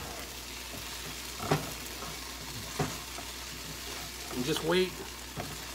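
A bacon and cauliflower casserole is stirred in a skillet, with soft sizzling and brief scraping strokes from the utensil, while a voice speaks quietly over the cooking.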